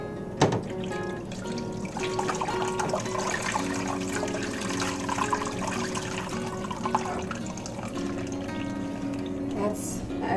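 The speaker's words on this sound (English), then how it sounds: "we're going to take this turkey and put it in a bunch of water" Water pours steadily into a pot holding a frozen turkey, a continuous splashing rush that runs the whole time under a voice talking nearby.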